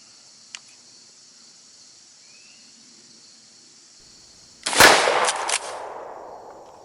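A single loud shotgun blast from a KelTec KSG 12 fitted with a .7 choke, fired outdoors at 12.5 yards, cracks sharply and rings out over a steady drone of insects.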